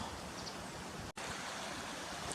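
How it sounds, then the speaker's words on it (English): A stream flows through farmland in the Harthope Valley near Langleeford, making a steady, broad rush of running water that goes on without a break. It stays even and moderately loud, with no voices. "I'll just record a little bit of this running water on the HARTHOPE Valley"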